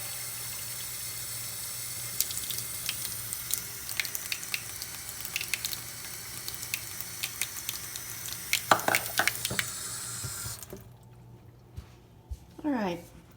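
A kitchen tap runs lukewarm water into a measuring cup for bread dough, a soft steady stream under a person talking, with clinks and handling noises before the flow stops near the end.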